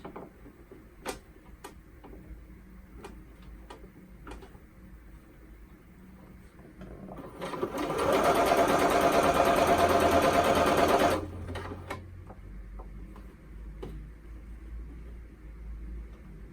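A sewing machine stitches a narrow zigzag on a T-shirt neckband in a rapid, steady whirring burst of about four seconds, between quiet stretches of faint clicking.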